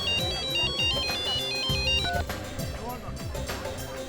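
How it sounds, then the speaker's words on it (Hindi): A mobile phone ringtone plays loudly and close, a repeating electronic melody that continues over a musical backdrop while people talk. "आपका फोन बज रहा है"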